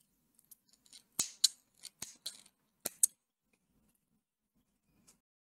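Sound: cutting yarn with scissors

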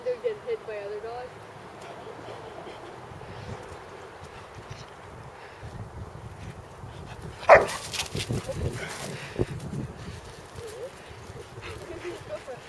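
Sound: dogs barking while playing

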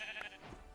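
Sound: pink sheep bleating as it is killed, video game

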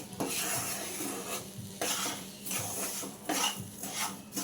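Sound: stirring roasted semolina for upma in a pan

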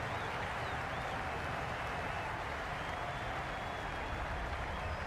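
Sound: crowd noise at cricket match in a video game

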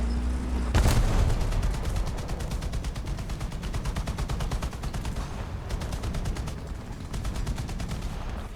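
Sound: tank gunfire in the video game War Thunder

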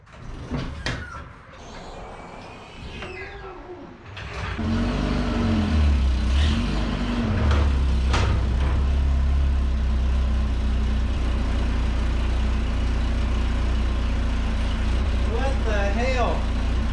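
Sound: old U-Haul mini truck box van driving and braking

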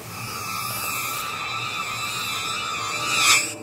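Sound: minor second long ambient riser sound effect

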